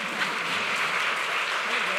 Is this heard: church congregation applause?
yes